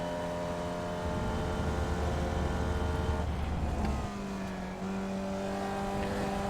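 A Formula Vee's 1960s Beetle engine in the iRacing sim screams at high revs climbing a hill, a sustained buzzing drone that holds steady, drops briefly on a shift near the end, then resumes.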